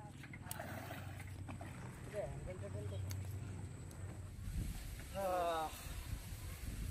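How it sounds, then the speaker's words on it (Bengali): A boat arrives on a river in the Sundarbans, its low engine rumble and water wash running steadily beneath several people talking nearby. "বোট চলে এসছে আমাদের"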